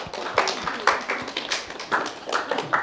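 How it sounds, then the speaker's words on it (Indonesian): A few people clap in loose, separate bursts at a spiritual talk on prana energy, sparse and fairly quiet with gaps between the hand slaps. "Ya, wow, tepuk tangan dong."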